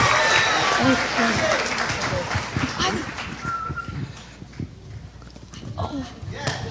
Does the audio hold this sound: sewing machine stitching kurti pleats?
no